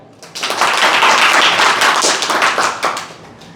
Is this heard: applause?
yes